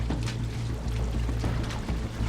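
Water pours into a boat through a leaking hull after the floorboard is opened, making a close, continuous gushing and sloshing with low churning rumbles and no voices.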